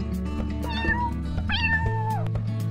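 A small kitten meows repeatedly in high, rising and falling cries, close and clear, with a steady low background hum and no talking.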